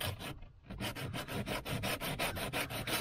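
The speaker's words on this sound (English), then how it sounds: "So just smooth out the Bondo. Just by hand, you don't need to use a block or nothing." Hand sanding of Bondo body filler on a 1978 El Camino SS dashboard gives a close, rhythmic rasping, with steady back-and-forth strokes repeating after a brief pause near the start.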